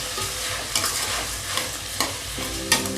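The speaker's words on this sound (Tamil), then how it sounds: "சேர்த்து கொஞ்சம் ஒரு 5 செகண்ட் லைட்டாக கிளறி விட்டுக்கலாம்" Washed rice and dal are stirred in hot oil, a steady sizzle broken by rhythmic spatula scrapes and clicks against the pan roughly every half second, close and loud.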